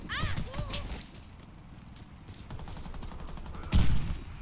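Gunfire in an online shooter match, with a few sharp reports scattered among background game noise and a louder burst near the end, while players talk over it.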